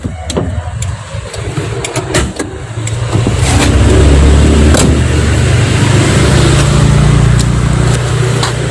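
A 2001 Hyundai Atoz GLS with a 1000 cc engine, clicks and clunks of handling at first, then the small engine idling loud and close in a steady low drone, no talk.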